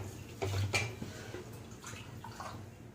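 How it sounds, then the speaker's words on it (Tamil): Water poured from a tumbler into a pot for Maggi noodles: a couple of short, splashing pours with light metallic clinks, quiet and close in a home kitchen. "அந்த டம்ளரில் தான் நான் அளவு வந்து தண்ணி ஊற்றுவேன்"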